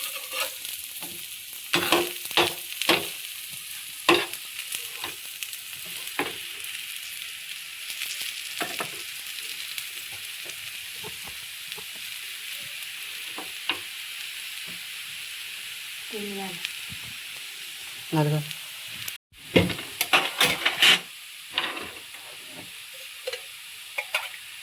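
Horse gram flour roasting in oil in a pan sizzles softly while a spoon scrapes and stirs in irregular bursts, fairly close with faint background noise.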